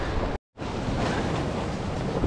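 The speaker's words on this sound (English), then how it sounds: "That water's really pushing in." Surf surges steadily against a rugged rocky West Coast New Zealand shoreline, a loud, continuous wash of breaking water with wind noise on the microphone and a brief dropout early on.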